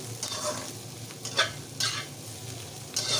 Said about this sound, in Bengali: নেড়ে সেড়ে নামিয়ে নিলে তৈরি হয়ে যাবে লাউ খোসার ভাজি